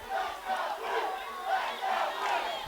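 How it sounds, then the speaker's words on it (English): A football crowd at a Valle Catholic home game against Thayer cheers in steady swelling waves, a broad roar of many voices rising and falling with no single voice standing out. "Crowd starting to get back into it for Valle"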